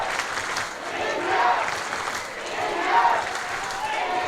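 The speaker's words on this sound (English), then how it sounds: "And you can hear from the crowd," A crowd at a field hockey match cheering and roaring in broad swelling waves, rising and falling twice over steady background noise, with a commentator's voice talking over it.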